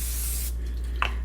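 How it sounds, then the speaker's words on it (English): Cooking spray hisses in one steady half-second burst onto a baking sheet for mini cherry tarts, then stops, followed by a brief second puff. "I'm going to spray this last one."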